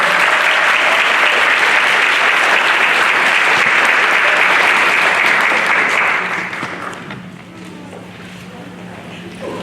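Loud, dense applause from a ceremony audience for master's candidates at a hooding ceremony, sustained for about six seconds before fading into quieter room noise and a low hum.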